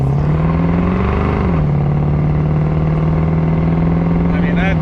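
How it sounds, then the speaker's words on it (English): Deep, steady exhaust rumble from a 1967 Ford Mustang Convertible V8 cruising, a low droning tone with a brief rise in pitch as the engine revs slightly. "this purr from the exhaust is absolutely addictive"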